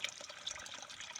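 Cold water pours steadily from a deep well spring, a continuous close splashing rush with no pauses or voices over it.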